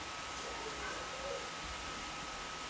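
Mythlogic Nyx1712 laptop cooling fan spinning at full speed during a render, a steady faint broadband whoosh with a thin constant whine.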